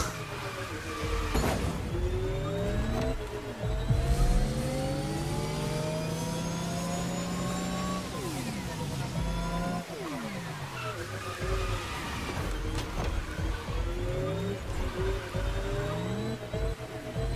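Porsche electric race car from The Crew Motorfest roaring steadily through a race, engine pitch sweeping up and down with gear changes and passes, other cars whooshing by, loud and continuous throughout without speech.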